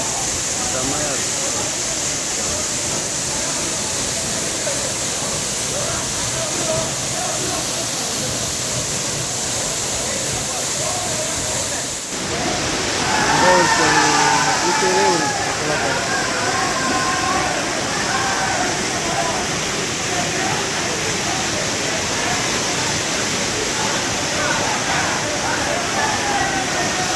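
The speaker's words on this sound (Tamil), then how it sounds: "ஒரு 50 அடி உயரத்தில் இருந்து விழுது அப்படிங்கும்போது செம்மையாக இருக்கும்." Kumbakkarai waterfall drops from about fifty feet, pouring a constant, heavy roar of falling water up close for the full length, with voices talking over it through the middle and later part.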